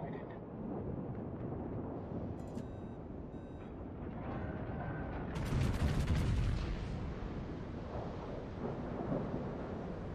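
Naval guns booming in World of Warships, deep rumbling thunder-like salvos over a constant low roar of the sea and engines, with a few faint beeps.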